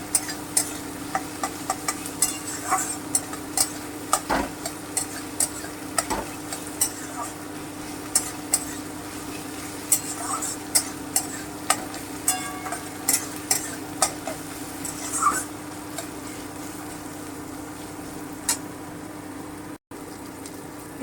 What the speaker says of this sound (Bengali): এবারে আমি টমেটোটা দিয়ে দিচ্ছি, কুচিয়ে রাখা টমেটোটা দিয়ে দিচ্ছি, একটু ভেজে নেব।